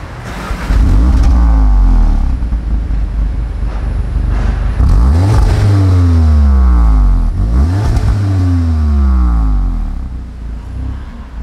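An Audi quattro car accelerating and revving in Parisian traffic, loud close engine sweeps rising and falling through several gear changes, with no one talking.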